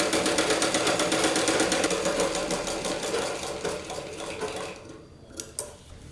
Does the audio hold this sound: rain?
no